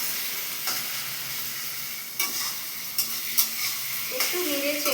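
Ground masala sizzles in a pan for chicken curry, a constant close frying hiss with occasional soft scrapes and a faint clink of a utensil.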